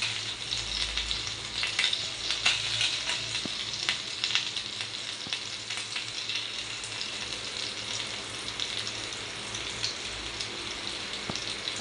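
Bangda mackerel sizzling steadily as it fries in a pan over medium gas heat, a dense continuous crackle with scattered sharper pops running evenly throughout.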